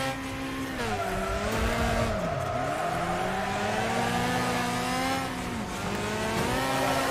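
A banger car in Wreckfest scrapes into a wall and spins round, engine droning steadily while tires squeal in wavering, sliding tones, loud and close throughout.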